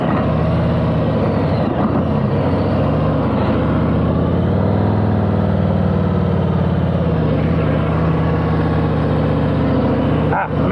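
Motorcycle engine during slow-speed riding skills practice, a close, loud continuous drone whose pitch rises and dips gently as the throttle is held and eased, with no break over the whole stretch.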